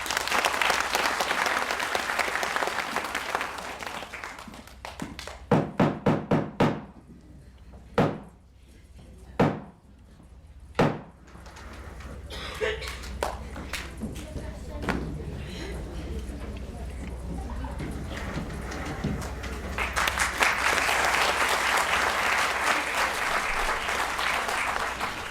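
Theatre audience applauding, a broad sustained roar of clapping at the opening, then a stretch of sharp knocks and thuds with quieter stage sounds and voices, before the applause swells again strongly at the close.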